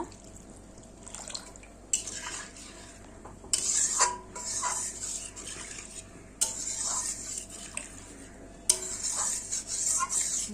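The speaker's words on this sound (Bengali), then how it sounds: "জল দিয়ে দিচ্ছি ঝোলের জন্যে।" Water is poured into a pan of spiced masala for fish curry gravy, several splashing, gurgling pours with brief clinks of the vessel between them, close and fairly quiet.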